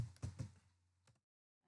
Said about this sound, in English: with the help of keyboard means you have to type it manually